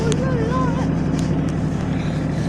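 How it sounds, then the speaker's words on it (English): A big heavy-duty tractor drives into the woods at night, its engine a steady low rumble throughout while a voice talks over it. "this is a pretty big, heavy-duty tractor"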